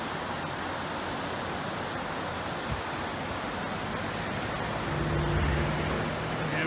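The Androscoggin River rushes around an island near Livermore, a steady broadband roar of fast-moving water that swells slightly louder near the end, with no voices.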